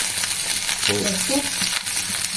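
Pumpkin pieces frying with curry leaves in hot oil, giving a close, continuous sizzle with light stirring scrapes.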